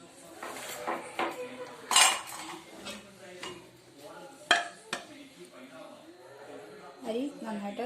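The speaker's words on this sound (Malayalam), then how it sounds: "ആവി കംപ്ലീറ്റ് ആയിട്ട് പോയിട്ട് നമുക്ക് കുക്കർ തുറന്ന് നോക്കാം" Metal clatter as a pressure cooker lid is handled and opened after the steam has gone, with several sharp clanks and clinks of pot and utensils nearby and a person's voice partly underneath.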